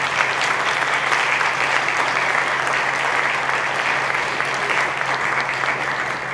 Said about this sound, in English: So can we give my faculty a round of applause?